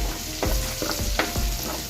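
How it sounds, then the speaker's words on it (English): Garlic sautés in a hot pan as spices are cooked for pork dinuguan: a loud, continuous sizzle broken by a few sharp knocks of stirring, with no voices. "Then it's time for us to saute the spices."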